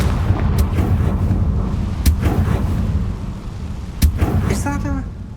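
Several sharp blasts from a Confringo fire spell in Hogwarts Legacy, loud and close, spaced irregularly with one near the start, one in the middle and one later, over a steady rumbling game background.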